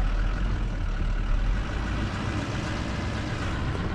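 Vehicle engine rumbling steadily as it drives forward up a hill toward a house in Valley of the Gods, a continuous low drone with road noise and no talking.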